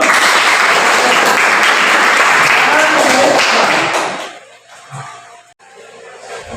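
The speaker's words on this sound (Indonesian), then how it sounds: "Oke, tepuk tangan dulu." A room full of people clapping loudly and steadily for about four seconds, then the applause fades out into quiet background noise.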